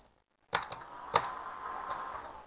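Keystrokes on a computer keyboard while writing Python code, a handful of close, crisp taps spaced irregularly after a brief silence.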